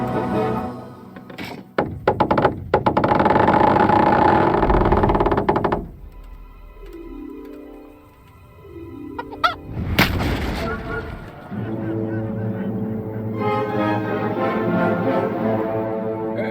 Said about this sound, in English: That was just the first shot. The trebuchet has to be calibrated.